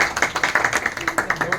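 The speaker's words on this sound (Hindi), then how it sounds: "एकदम यूं ताली बजाते रहियो" Party workers clap their hands in a quick, even rhythm, a crisp series of close claps with voices talking faintly underneath.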